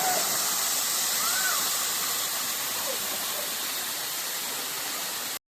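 A loud, constant roar of falling water fills the scene without a break, close and overwhelming.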